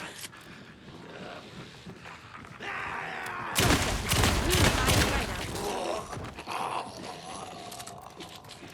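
Gunshots from a firearm in the video game Alan Wake 2, a few loud, broad blasts bunched together near the middle over a busy game soundtrack, with no clear rhythm.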